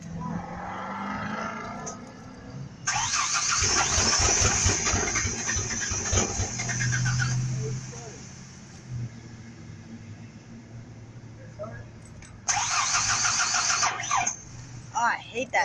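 A truck engine with a weakening battery cranks in two separate bursts of several seconds each and never catches, while people talk nearby in a vehicle.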